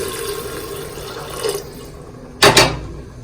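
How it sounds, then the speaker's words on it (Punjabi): Hot water pours into a cooking pot on the gas, a short splashing rush near the start and a louder brief gush later, with quieter kitchen sound between. "ਗਰਮ ਪਾਣੀ ਪਾ ਲੈਂਦੇ ਹਾਂ"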